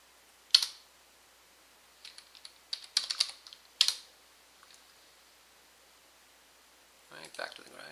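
Password typed on a computer keyboard during a MySQL install: a few scattered bursts of close, crisp key clicks separated by pauses, with a faint rustle at the end.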